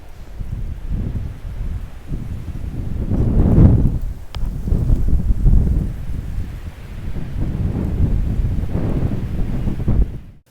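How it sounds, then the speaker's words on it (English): Strong wind whips across a high mountaintop at the top of a drive, roaring in loud, surging gusts that buffet the microphone throughout, with no voices. "the wind was just whipping through there"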